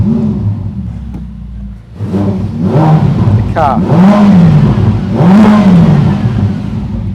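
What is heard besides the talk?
2022 Ferrari F8 Spider V8 engine starting and revving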